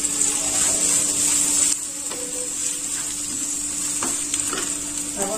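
Finely chopped green chillies frying with grated ingredients in a pan for chole masala, giving a constant hissing sizzle with a low steady hum and a few faint scraping stirs, without talk.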